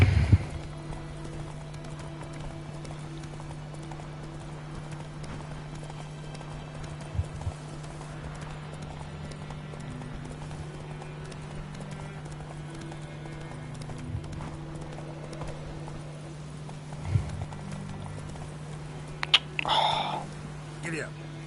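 Roach, the horse in The Witcher 3 video game, runs with steady clip-clop hoofbeats over a constant low in-game hum, with a few louder thumps and a brief higher tonal sound near the end.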